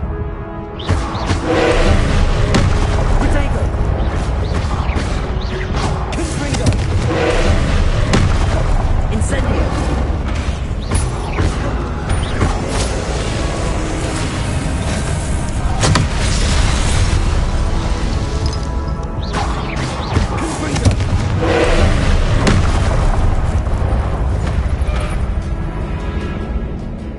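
Repeated booming explosion blasts from the Confringo spell in the video game Hogwarts Legacy form a dense, loud barrage of overlapping impacts mixed with combat noise throughout.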